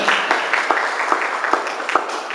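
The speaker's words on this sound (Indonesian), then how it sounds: "Tepuk tangan." A small group at a marketing-plan meeting claps in a quick, fairly even rhythm, loud and close, with brief overlapping hand claps.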